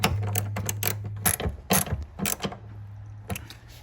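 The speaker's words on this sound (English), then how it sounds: "We'll get our ratchet." A ratchet tightens a door pin bolt on a 1999-2007 Chevy Silverado, giving close, crisp bursts of rapid clicking with short pauses, over a low steady hum and with no talk.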